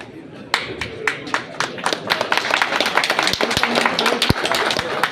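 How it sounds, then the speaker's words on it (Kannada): Audience clapping at a public event with a minister and legislator present, starting with a few sharp claps and building into steady, fairly loud applause with some distinct nearby claps. "ಜೋರಾಗಿ ಚಪ್ಪಾಳೆ ಇರಲಿ"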